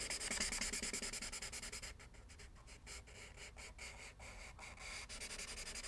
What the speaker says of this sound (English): I'm going to start by coloring it with the toner number 5, the T5 Copic marker